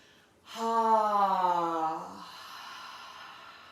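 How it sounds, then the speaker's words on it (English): A forceful open-mouthed 'ha' exhale during yoga breathing, one loud voiced breath out lasting about a second and a half, then trailing off into quiet breath noise. "I want you to make noise, the HA sound. Big, huge exhale."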